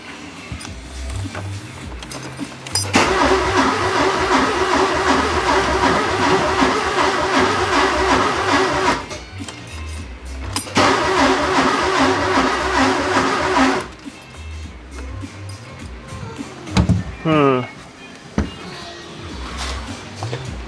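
A Porsche 944 engine cranks over with a steady mechanical whir in two long bursts, then stops. The sound is loud and close, with short gaps and clatter between attempts.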